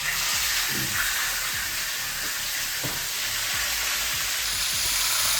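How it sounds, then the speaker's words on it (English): Pork ribs browning in a very hot pan of sunflower seed oil, a loud, steady sizzle and hiss with small pops and scrapes, close up. "I got a really hot pan here with some sunflower seed oil, and let's just throw these guys in, make some noise"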